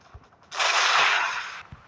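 A helicopter in a video game fires its gun in one sustained rapid burst of about a second, loud and dense, with faint clicks before and after.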